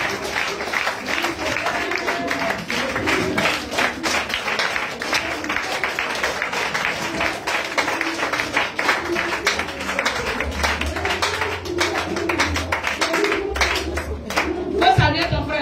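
A church congregation applauds to acclaim the Lord during a Pentecost service, with continuous clapping and crowd noise running throughout, steady and fairly loud, while a voice speaks over it.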